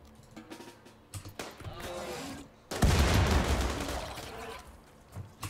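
Gunfire in a video game, a dense burst of shots and booms that builds to a loud, sustained barrage in the second half, with game effects scattered around it.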